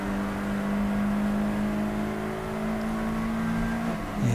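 A Tibbetts race car at Snetterton circuit runs steadily at speed with a sustained engine whine, moderately loud and fairly close, with no talk over it.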